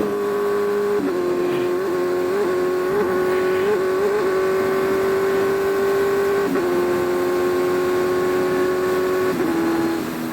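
A 2014 Kawasaki Z1000 roadbike on a test ride, its big engine droning loudly and steadily with several shifts in pitch as it accelerates and changes gear, close and continuous, wind rushing underneath.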